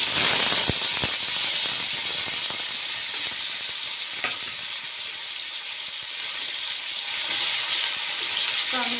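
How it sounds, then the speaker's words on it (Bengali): Potatoes and tempering spices frying in hot oil for a Bengali white potato curry, a steady loud sizzle with scattered stirring clatter and crackles. "ফোড়ন থেকে সুন্দর গন্ধ বেরোতে শুরু করলে দিয়ে দেব আলু"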